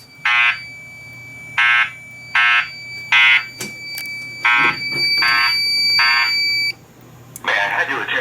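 Fire alarm system sounding during a building system test, repeating electronic tone pulses in an evenly spaced pattern, with a spoken evacuation announcement and background voices layered over it.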